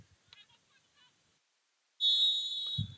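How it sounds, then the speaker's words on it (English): A referee's whistle sounds at a women's college soccer match, a single sharp, loud blast lasting about a second after faint background commentary. "And we have ourselves a whistle."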